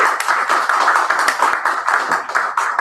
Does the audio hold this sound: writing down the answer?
no